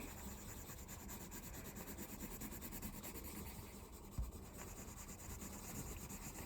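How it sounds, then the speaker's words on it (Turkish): A green colored pencil scratches steadily across paper during a coloring session, a faint, continuous dry rasp with one brief knock partway through. "ama kalem sesini sevmiyorsun"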